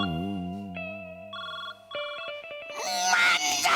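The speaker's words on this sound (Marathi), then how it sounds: "फोन वाजला" A mobile phone rings with a melodic electronic ringtone, clear stepped tones playing close by, before a burst of noisier sound takes over toward the end.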